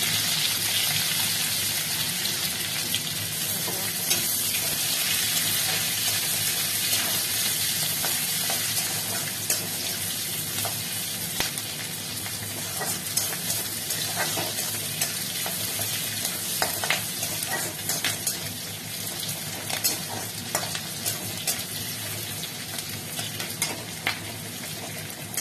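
Chilli chicken fries in a pan, a loud steady sizzle heard close up for a long stretch, punctuated by scraping stirs and crackling spits throughout, without speech.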